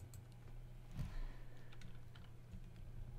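Keys clack on a computer keyboard in quick, light bursts while text is typed into Photoshop, a close and fairly quiet run of irregular taps with one louder press.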